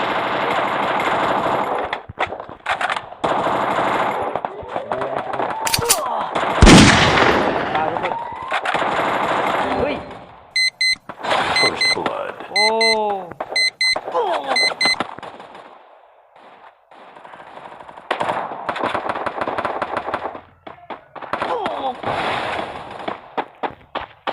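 Rapid bursts of automatic gunfire and single shots in the Free Fire battle royale game during a 4v4 ranked match, loud and repeated with short pauses, mixed with game effects and under someone talking.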